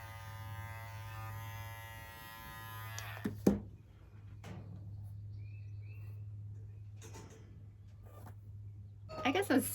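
Electric clippers shear a German Angora rabbit with a steady close buzz running throughout, interrupted by a few brief handling knocks and rustles.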